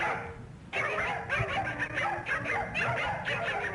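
A cartoon puppy from a classic animated short yips and barks in quick, repeated bursts with whimpering notes, mixed with soundtrack noise at moderate volume.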